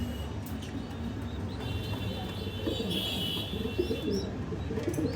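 Low, soft cooing from fancy Red Lahori pigeons repeats near the end amid a steady hum, with faint chirps from caged love birds and cockatiels drifting above.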